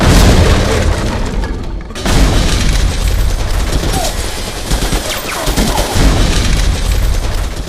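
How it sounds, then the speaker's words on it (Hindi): Gunfire during a deadly gang clash at a village council meeting in Ayodhya, heard as a loud, dense, continuous barrage of booming shots with no clear breaks. "60 सेकंड का फायरिंग कांड।"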